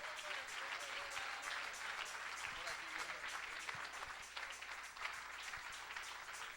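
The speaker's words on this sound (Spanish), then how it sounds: "Recibámoslo con un aplauso." A church congregation applauds warmly to welcome a preacher at a bilingual Spanish-English service, steady dense clapping filling the room with cheering voices and talk mixed in throughout.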